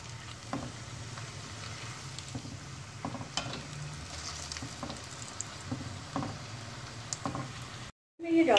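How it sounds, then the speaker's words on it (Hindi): Thin dal kachori deep frying in hot oil for a homemade breakfast, giving a steady soft sizzle with faint bubbling and occasional light knocks, then a brief silence and a louder bump at the end; no talking. "इसी तरह मैंने पतली सी कचौरी बनाई है और मैं इसे डीप फ्राई कर रही हूँ।"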